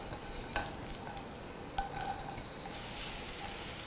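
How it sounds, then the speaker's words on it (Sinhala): Garlic frying in oil in a pan for a ridge gourd omelette, a steady low sizzle with a couple of brief clicks and a louder hiss swelling near the end. "දැන් මේ pan එකට මම තෙල් ටිකක් දානවා ඊට පස්සේ සුදු ලුණු ටික දාලා"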